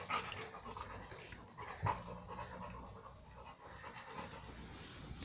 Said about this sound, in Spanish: Y me gruñe, me ladra.